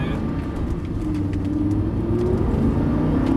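A Lamborghini Gallardo on a track during a driving course pulls hard in second gear, its engine a loud, close, continuous roar with rising tone from inside the car.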